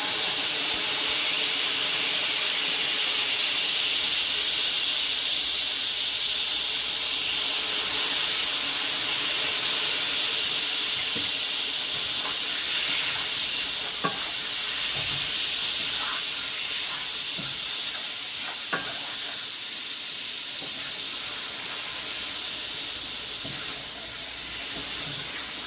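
Balsamic vinegar hissing in a hot pan as it starts to reduce, a steady broadband sizzle with faint crackles and pops over a constant steam hiss, moderately loud and close, with no talking.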